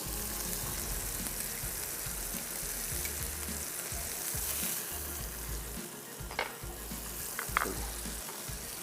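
Ingredients for a Cantonese chicken soup, seasoned with white pepper, vinegar and soy sauce, fry in a pan with a dense, steady sizzle and occasional utensil clinks and scrapes toward the end. No one speaks.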